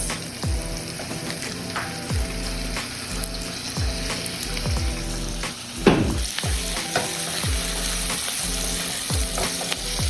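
Onion and tomato sauté in a hot pan with garlic for corned beef caldereta: a steady, close sizzle broken by repeated scraping stirs of a spoon against the pan, with no talking.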